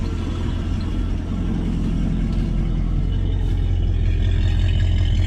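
A 1973 Dodge Dart's engine idles through a single exhaust, giving a steady, loud, low rumble that holds constant throughout without talk.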